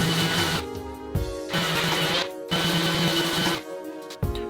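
An electric sander works a concrete countertop, running in buzzing, gritty stretches of about a second each, broken by short pauses and abrupt changes in pitch as the sander is lifted and set down, close and loud.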